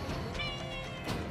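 A pet cat named Jacob gives a drawn-out, fairly loud meow close to the listener, a single continuous call with no talking over it.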